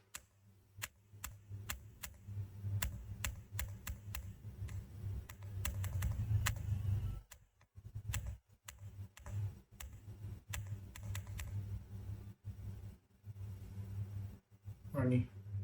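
Quick clicking keystrokes on a computer keyboard rattle in irregular bursts all the way through, with a person talking over the typing for most of it.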